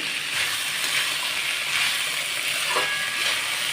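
Carrots and peas sautéing in an oiled pan for matar pulao, a steady close hiss and sizzle with faint stirring scrapes, no voices.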